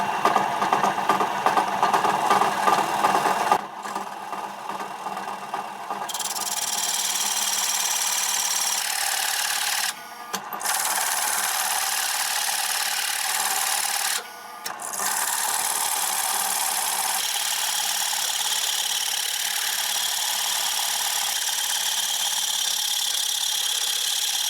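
A drill turning a Craftsman circle cutter bores a circle out of a C-clamped workpiece, giving a loud, steady grinding whine that runs almost without a break. It dips briefly twice, and no one speaks.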